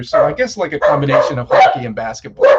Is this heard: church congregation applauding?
no